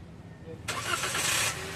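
A Toyota Avanza engine with a leaking valve cover gasket is started again after idling for about twenty minutes, giving a short crank and a quick catch into a steady running roar, with talk nearby.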